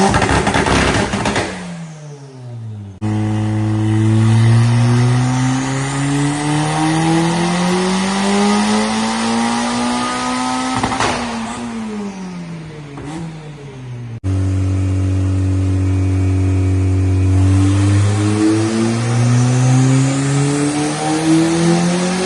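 A turbocharged Honda Del Sol with a basically stock motor revs hard on a dyno, its engine note climbing repeatedly through the gears in long loud pulls, with brief drops between runs and no talking.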